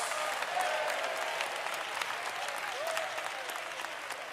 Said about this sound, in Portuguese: Pode bater palmas e dar glória para Jesus